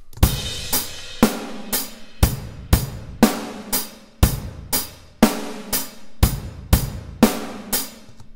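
A VST drum mix plays back with its levels thrown out of balance by gain staging: a steady groove of punchy kick and snare hits with cymbals washing over the top, loud and dry, with no talking.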